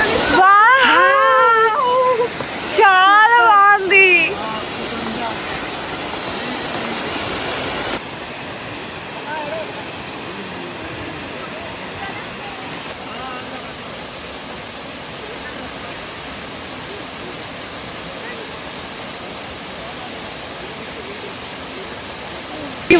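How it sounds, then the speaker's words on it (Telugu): Water rushes in a constant broad roar from a nearby waterfall in Coorg; at the start a few brief high wavering voices sound over it, then the roar continues alone. "వాటర్ సౌండ్ వినిపిస్తుందా మీకు"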